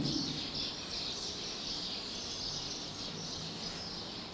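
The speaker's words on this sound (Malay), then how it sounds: "Burung-burung berkicauan." Birds chirping outdoors on a plantation settlement, a dense continuous high twittering mixed with insect-like buzzing, steady and moderately loud with no one speaking.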